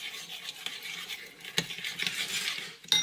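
A spoon stirs a cake batter of oil and sugar in a bowl, with soft, continuous wet scraping and occasional sharper clinks against the bowl, close up and without talk.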